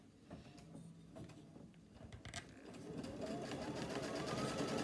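An embroidery sewing machine stitching a quilt design on fabric over wadding starts with faint taps and handling, then builds into a steady, quiet mechanical whir of rapid stitching.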